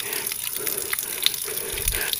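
Water gushes steadily from a tap in a rural hut, a close, hissing stream that runs on without pause for a couple of seconds.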